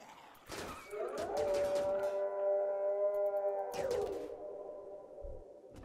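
A swelling game sound effect of zombies arriving in the RimWorld Zombieland mod, with a sustained, droning, siren-like wail that holds steady and then fades, all loud and heard without any talking.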